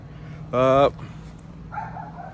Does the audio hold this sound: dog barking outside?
yes